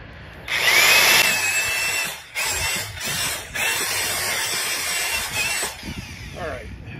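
A power drill reams out a hole in a piece for a DIY pig processing tripod, whining in several bursts with short pauses between them, close and loud, while someone talks.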